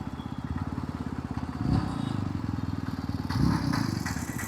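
A 350cc cruiser motorcycle ridden in third gear, its engine giving a close, steady, rapid thumping pulse with two brief louder swells, and no talk over it.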